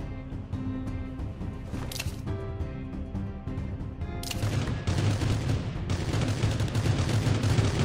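Rapid bursts of automatic gunfire in the mobile battle-royale game Rules of Survival, dense overlapping shots throughout, growing louder and more continuous in the second half.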